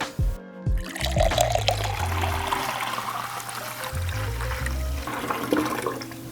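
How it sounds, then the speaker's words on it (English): Grape juice pours from a container into a winemaking tank with a sustained, splashing gush of liquid and gurgling, loud and close, with a low thump at the start. "There's no wrong or right way to add this juice. Just pour it in."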